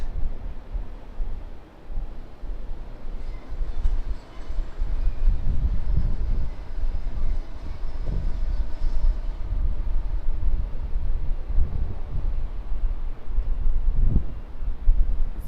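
A Jetstar Boeing 787-8 on its takeoff roll from runway 16 right at Sydney Airport sends out a steady, distant low rumble of jet engines that keeps going throughout, mixed with wind buffeting the microphone.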